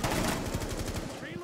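Rapid automatic gunfire from the tactical shooter Rainbow Six Siege, a dense run of quick shots close up, with voices faintly mixed underneath.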